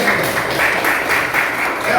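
A classroom of students claps together in a continuous patter throughout the short stretch, with voices mixed in underneath.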